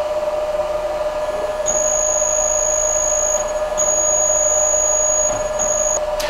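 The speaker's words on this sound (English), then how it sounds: "let's go ahead and jog the motor and see if it's going to operate for us" A Yaskawa Sigma servo motor jogs under steady power, giving a constant electrical hum with a high-pitched whine that starts, breaks off and resumes several times over a continuous noisy background, with no talking.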